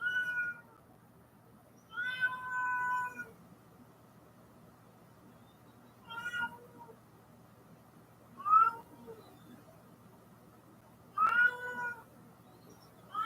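A pet cat meows repeatedly indoors, about five drawn-out calls spaced a few seconds apart, fairly close, over a low steady background hum.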